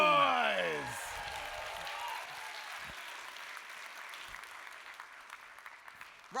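Applause and cheering from a crowd at a cosplay championship contest, a burst at the start over a host's call, then steady clapping that carries on and fades slightly.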